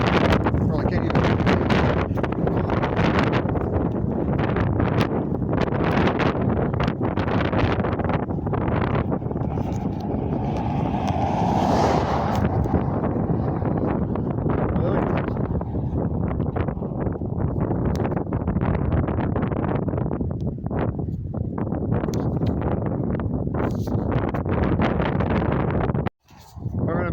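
Wind gusts off a nearby open field and buffets an outdoor microphone with a loud, continuous rumble, while a person talks throughout.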